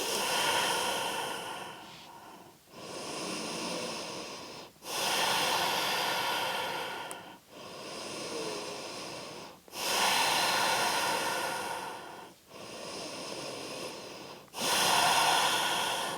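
Slow, deep breathing during an Ashtanga yoga forward bend, with long audible inhales and exhales alternating in a steady rhythm, close and breathy, with no talking.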